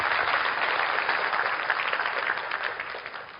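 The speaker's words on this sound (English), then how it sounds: "Give Riway a big round of applause." Steady applause from an audience at a direct-selling team event, a dense even wash of many hands clapping with no voices over it.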